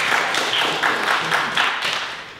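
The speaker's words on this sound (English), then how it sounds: "please welcome Philipp with a big round of applause" Audience at a Startup Grind event in Cluj-Napoca claps steadily and loudly for about two seconds, a dense wash of overlapping hand claps with slight swells.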